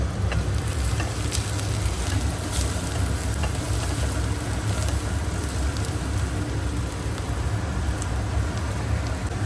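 Country chicken frying in a pan, a dense, continuous sizzle that stays loud and even throughout with faint stirring scrapes underneath.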